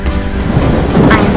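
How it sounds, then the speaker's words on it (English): A cartoon thunderstorm fills the scene with loud, dense rain and low thunder rumbling throughout, all in one continuous wash. "Wow, it's raining."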